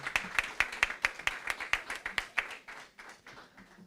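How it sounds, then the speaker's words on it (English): An audience at a public speaking competition claps for the speakers, with a steady, fairly quick run of hand claps from a small crowd that slows and fades after a few seconds. "Let's give them a final round of applause."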